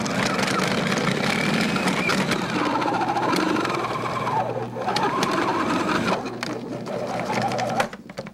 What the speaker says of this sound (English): I'm gonna take and feed this through my food processor with the shredding blade